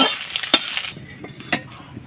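Fried desi chicken eggs sizzle in a pan as they are lifted out, a soft crackling hiss under two sharp utensil clicks against the pan, then a quieter sizzle.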